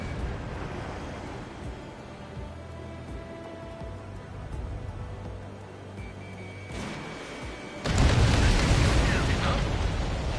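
A destroyed enemy transport explodes in the Ace Combat 7 flight game: a low engine drone with faint tones runs for several seconds, then a sudden loud, roaring blast erupts and keeps rumbling to the end.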